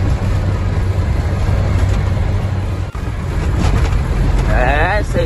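A truck hauling 20 tonnes of wood grinds slowly up a mountain road, its steady low engine drone and wind roar filling the scene while a person talks over it.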